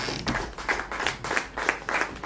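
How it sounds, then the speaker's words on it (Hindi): Sparse applause from a small theatre audience after a stage play in Patna, a handful of distinct claps in an uneven rhythm, fairly quiet and brief with no talking. "नीरजा का पात्र कर रही थी सुकन्या पंडित, जोरदार तालियां बजनी चाहिए।"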